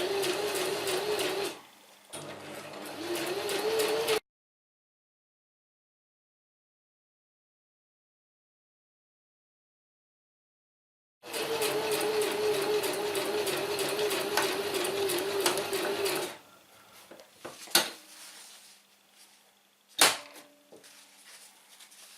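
A sewing machine stitches a billy can stuff sack in short bursts, running forward a few stitches and reversing a couple, with a long silent pause in the middle and a few faint clicks near the end.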